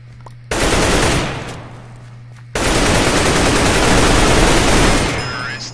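Bursts of rapid automatic AK rifle fire in the Minecraft Mineplex Minestrike game, loud and close, with a short volley, a gap, then a longer sustained stream of shots.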